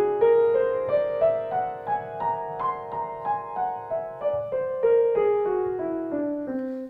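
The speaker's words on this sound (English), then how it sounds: "Another one he used was what's called the whole tone scale," Solo piano plays a whole tone scale, rising in evenly spaced single notes and then descending, each tone ringing into the next as if held by the sustain pedal, close and clear with no talking.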